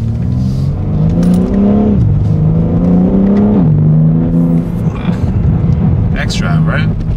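An all-wheel-drive BMW G80 M3 with its resonators removed accelerates hard, its engine and exhaust giving a loud, raspy, rising drone that drops at gear changes. The sound is close and steady, with occasional voices over it.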